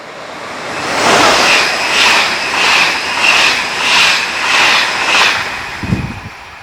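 A train on the Brunel-built Florence to Pistoia railway line in Italy rumbles past in a broad, steady roar with rhythmic swells as carriages go by, ending with a brief low thump.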